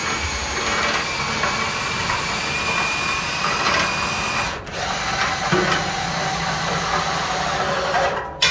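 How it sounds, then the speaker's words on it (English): A cordless drill whirs steadily and close up for several seconds, running in reverse to operate a mechanical belt lifter, its motor pitch briefly dipping midway, with no talking. "we just put the battery drill in reverse"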